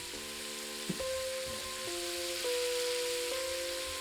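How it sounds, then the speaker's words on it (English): Pieces of venison heart frying in a pan, a soft continuous sizzle heard close, with a steady tonal hum running over it and one brief clink. "Just let them fry on one side, we'll flip them, stir them up kind of"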